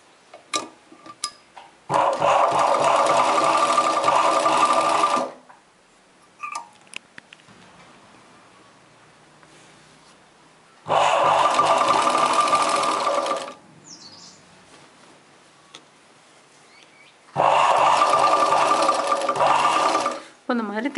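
A sewing machine stitches a chudidar top in three bursts of rapid, loud whirring and ticking, each several seconds long, separated by quiet pauses. Someone speaks between them.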